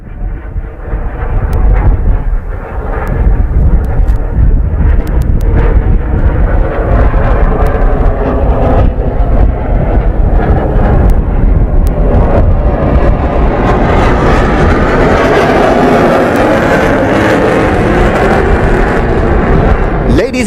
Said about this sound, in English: as the MiG-29K streaks across the horizon